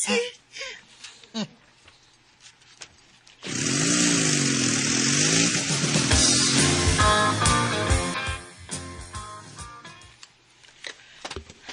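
A motorcycle starts up and rides off carrying two people. A loud, close engine roar rises abruptly and holds, then fades into the distance, with voices talking before and after.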